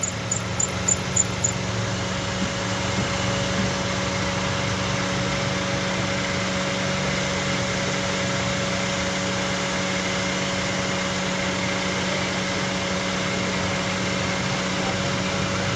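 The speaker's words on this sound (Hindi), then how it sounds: "थोड़े बेल्ट आवाज़ कर रहे हैं, साउंड दे रहे हैं" A car engine idling steadily after a long standstill, its belts giving a continuous high squeal over the even engine hum, with a few short chirps at the start.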